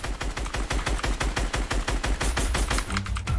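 Fortnite gunfire sounds as a loud, rapid automatic burst, a dense run of about a dozen sharp shots per second that carries on nearly the whole time before cutting off at the end.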